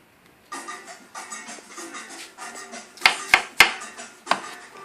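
Organic onions are chopped on a board for a homemade Mediterranean quiche, a steady series of close knife strokes followed by a few sharper, louder chops near the end.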